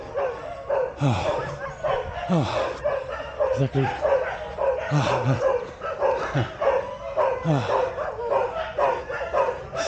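A dog barks and yips repeatedly on a mountain top in Thailand after a hike, with short excited bursts mixed with whimpers, close by, while people talk over it.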